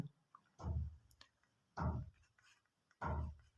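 Three separate scratchy strokes of someone writing out a maths equation, each about half a second long with quiet pauses between, close and fairly faint.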